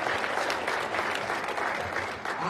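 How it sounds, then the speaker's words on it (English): A church congregation claps in praise during a Sunday service, a steady, full round of hand clapping from many people throughout, close and unbroken. "can we give the Lord one more hand clap of praise for the beautiful day he has blessed"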